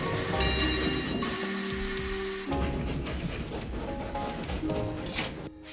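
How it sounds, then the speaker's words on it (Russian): A train rumbles along the tracks in the Train Valley video game, a continuous loud rolling clatter with sustained tonal hums shifting partway through, and no talk over it. "у нас куда-то не туда едет поезд"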